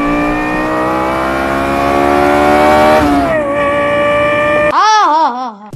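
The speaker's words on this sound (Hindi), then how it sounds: "गाड़ी का नाम है लेक्सस LFA" A Lexus LFA, a Japanese two-seater sports car with a 4.8 litre V10, revs loudly and holds a high, steady engine note, drops briefly, then climbs again and ends in sharp, quick rev blips close by.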